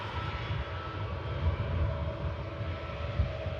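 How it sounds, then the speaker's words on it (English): Steady low rumble of a Ryanair jet at Manchester Airport during pushback, a continuous distant engine drone with faint higher whine, heard alone without talk. "Ryanair 73 pushback for the return to Brussels."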